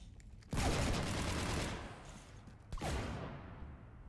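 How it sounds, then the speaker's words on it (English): Gunfire in the video game Mass Effect, a sustained dense burst of shots up close that breaks off briefly and then resumes in a second loud volley. "You want to stop shooting up my ship?"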